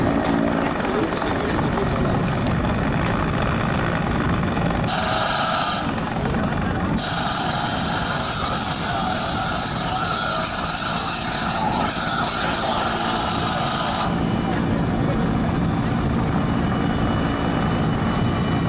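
Fire brigade helicopter, an AW109-type light, fast machine, hovering at the Jesolo Air Show 2018, a steady loud rotor and turbine roar with a high whine rising mid-way, under continuous commentary.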